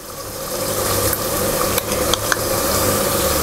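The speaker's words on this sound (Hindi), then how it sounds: "इसकी अच्छी तरह भुनाई करेंगे।" Spiced masala with beaten yogurt frying in a pan for a lauki chana daal, a steady close sizzle with a low hum beneath and a few sharp clicks of a spoon stirring through it.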